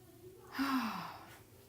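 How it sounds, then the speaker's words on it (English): A woman breathes out heavily near the microphone in a bright indoor room, one long audible sigh-like exhale with no words spoken. "If you hear me breathing, I'm sorry."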